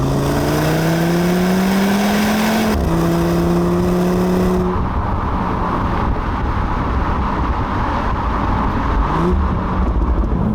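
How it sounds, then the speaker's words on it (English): A 340 hp Audi RS Q3 crossover accelerates hard from inside the cabin, its engine note climbing steadily, dropping at a gear change, then climbing again before settling into a loud, steady drone. "It's a characterful engine, makes a great sound, pulls very hard"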